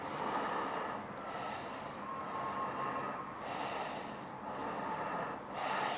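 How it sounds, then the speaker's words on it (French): A person demonstrates chest breathing with three or so loud, airy breaths at a slow, even rhythm, close to the microphone over steady background noise. "La respiration par la poitrine, ça va être l'inverse."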